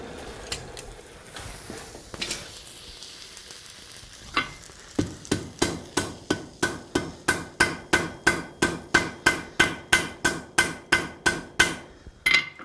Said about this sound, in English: this is the old style traditional form of forge welding that we want to attempt to do